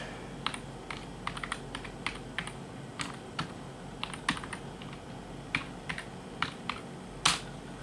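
Someone types a password on the keyboard of a Bondi Blue iMac, producing a close, steady run of light plastic key clicks that ends in one sharper keystroke, with no talking.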